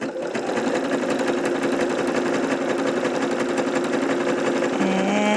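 A sewing machine stitches fabric for a bralette in one continuous, loud, fast-whirring run with a steady mechanical rhythm, close to the microphone and without talk.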